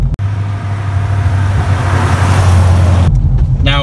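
A 2008 Chevrolet Corvette 3LT drives hard at full throttle with a loud, steady engine drone and road roar, then cuts off abruptly near the end as the sound drops away.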